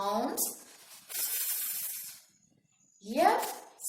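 A voice imitates the phonics F sound, producing a hissing fff in a children's alphabet story, with two separate breathy hisses and a few spoken syllables at the start and end.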